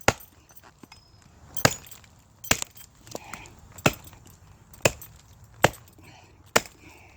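Sharp, hard chops of a blade splitting resinous fatwood, about seven loud, evenly spaced strikes standing out over a quiet outdoor background.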